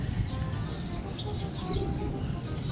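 Birds chirp and coo outdoors, with light, scattered calls over a low background rumble.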